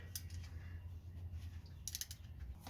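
Ratchet clicking in short bursts while tightening brake caliper bolts with a T55 socket on a 2005 Cadillac Escalade, faint and close, a few quick pawl clicks between pauses.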